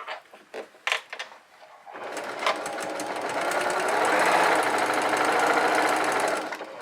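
A sewing machine chain-piecing fabric masks: a few separate clicks and taps, then a steady close running whir of stitching that speeds up and holds for several seconds before easing off.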